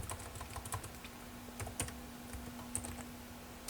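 Typing on a computer keyboard, a quick irregular run of light close key clicks over a faint steady hum, with no talking.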